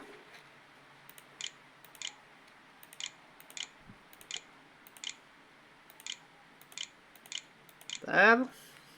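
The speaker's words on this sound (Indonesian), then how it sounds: "Kita masukkan password menggunakan keyboard internal." Keys on the internal keyboard of a Lenovo Z40-70 laptop click quietly as a password is typed, about a dozen sparse taps in an uneven rhythm, ending with a brief rising chirp.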